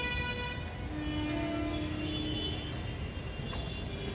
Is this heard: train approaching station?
yes